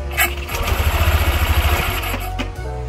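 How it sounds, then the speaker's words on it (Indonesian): A Honda PCX 150 scooter engine starts and idles briefly, a close, loud, rapid throbbing putter that settles after about two seconds, with a few clanks around it. "Nyalain mesinnya sedikit, ini kan masih longgar nih."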